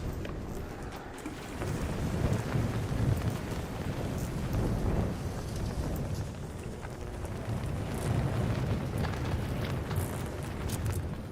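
A thunderstorm rages in the ARC Raiders video game, with low rolling rumbles, gusting wind and rain-like hiss forming a continuous, heavy roar that swells and eases throughout.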